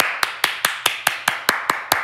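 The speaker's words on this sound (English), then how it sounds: "But it's a sarcastic clap." Slow, deliberate sarcastic clapping, about ten sharp evenly spaced claps from a single person, close and alone without talk.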